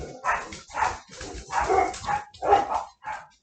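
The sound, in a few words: dog barking, dog bells ringing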